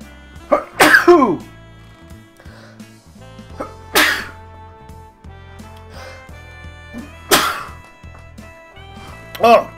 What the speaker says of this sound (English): Oh, the sneezing. I'm sure that has peaked on my microphone.